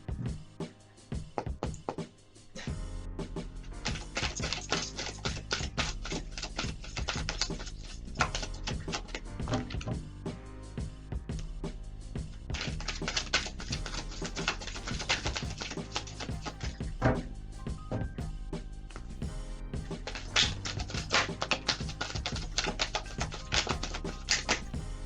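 Tarot cards are riffled and shuffled in repeated long bursts of dense, crisp flutter, close up, with brief pauses between each shuffle.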